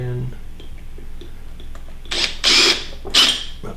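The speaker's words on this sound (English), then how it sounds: "I'm going to drill the holes in it now." A drill bores holes through a walnut and copper candle holder in a woodturning shop, two short bursts of grinding and whirring after a stretch of faint clicks and handling, with speech nearby.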